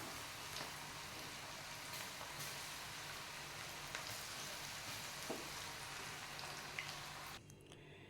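Corn cheese balls and black chickpea pakoda deep-fry in hot oil with a soft, steady crackle and sizzle and occasional small pops, which cut off abruptly near the end.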